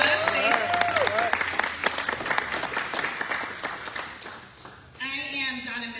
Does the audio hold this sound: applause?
yes